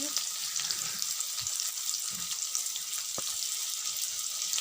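Chopped onion frying in hot oil left over from frying pointed gourd, a steady close sizzle and crackle with occasional stirring knocks, alone without talk.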